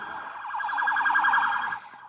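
Fire truck sirens wail loudly as the trucks arrive at a fire scene, a steady warbling siren tone holding for nearly two seconds before tapering off.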